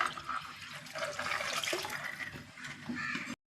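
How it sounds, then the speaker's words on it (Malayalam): Water poured into a pot of rasam while cooking, a steady splashing trickle lasting a few seconds, close and moderately quiet, ending abruptly. "പിന്നെ ഇതിലേക്ക് ആവശ്യത്തിനുള്ള വെള്ളം ചേർക്കണം."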